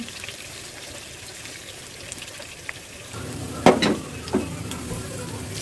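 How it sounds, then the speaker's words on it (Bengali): Tilapia fish frying in hot oil in a home kitchen, a low steady sizzle that swells louder partway through, with a few brief sharp spits and crackles near the end. "তেলাপিয়া মাছগুলোকে আমি ধাপে ধাপে প্রসেস করে কীভাবে ভাজি করলাম তা দেখুন"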